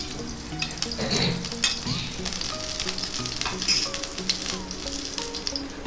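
Steady sizzling of grated garlic frying in hot oil, continuous crackle with a few light clinks from a pan or spoon, no talking.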